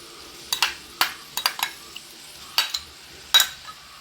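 Ginger-garlic paste goes into onions frying in a pan, bringing a few sharp stirring clanks and scrapes against a faint sizzle.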